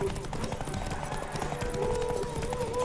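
In The Witcher 3: Wild Hunt, horse hooves clip-clop in a quick, steady trot, fairly close, mixed with low rumbling game ambience and a hint of voices.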